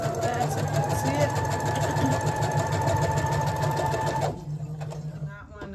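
A sewing machine runs a basting stitch with a fast, steady mechanical whir and rapid needle clatter close by. It stops near the end and leaves quieter handling noise.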